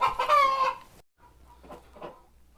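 Chickens in a homestead coop give a burst of close clucking and crowing-like calls, then a pause before softer, scattered clucks follow.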